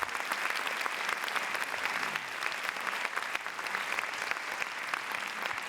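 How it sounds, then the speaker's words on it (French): A conference audience at a talk on sleep applauds a regional partner, sustained, even clapping from many hands that fills the whole stretch at a steady level. "Et on l'applaudit parce que sans elle, on ne serait pas là."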